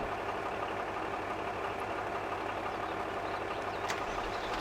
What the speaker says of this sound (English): Start the engine before we can advance.